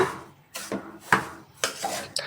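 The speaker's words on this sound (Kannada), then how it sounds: "ನೋಡಿ ಈ ರೀತಿ ಚೆನ್ನಾಗಿ ನೀಟಾಗಿ ನಿಧಾನಕ್ಕೆ ಮಿಕ್ಸ್ ಮಾಡ್ಕೊಳ್ಳಿ" Rava and sugar are stirred slowly in a pan for rava laddu, producing a steady series of about five dry scraping strokes, close and without talk.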